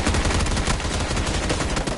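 Rapid gunfire in the PUBG battle royale game, a dense, loud burst of automatic shots fired in quick succession over two seconds, harsh and continuous.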